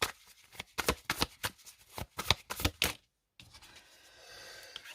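Tarot cards are shuffled close up in a quick series of crisp riffles, pause briefly, then slide softly as they are laid out.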